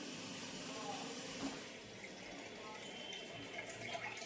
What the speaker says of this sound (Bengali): তো এবার চালটা ধুয়ে নিচ্ছি।